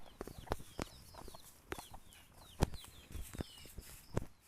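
Several chickens cluck in short, irregular bursts, fairly faint and close together, with the odd sharp peep or flutter between them.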